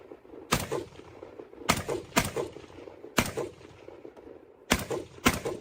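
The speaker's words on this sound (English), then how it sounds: "Sounded like he was shooting in full." Six separate loud gunshots at irregular intervals, each a sharp crack with a short echo, over a murmur of background noise.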